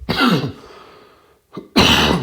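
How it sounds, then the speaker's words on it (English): Two harsh coughs close to the microphone, separated by a brief pause, each a loud rough burst. "had a cough"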